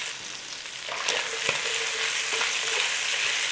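Chunks of lean beef for a beef and bean chili searing in a hot pan: a loud, steady sizzle that swells slightly after the first second, with a few sharp pops and crackles and no voices.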